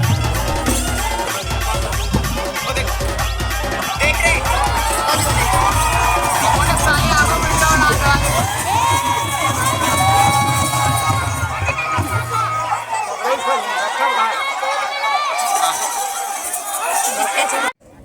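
A big crowd cheers and shouts at a village fair in Gopaltola, Khairagarh district, with dense hubbub and children's cries. Heavy low thumps pulse through the first half, then the noise thins to scattered voices before cutting off.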